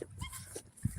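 Dogs kept in the back of a warehouse, a quick run of faint yips and whimpers heard from a distance.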